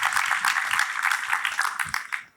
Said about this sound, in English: please join me in extending a warm round of applause for Ms.